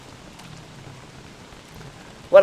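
Steady rain falls in the video game Don't Starve, a soft even patter running throughout, with a brief louder burst right at the end.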